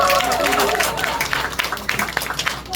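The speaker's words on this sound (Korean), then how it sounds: "박수 한번" A crowd at a Korean party members' day event claps after a host introduces guests, a scattered round of applause that thins into separate claps toward the end, with a voice over it at the start.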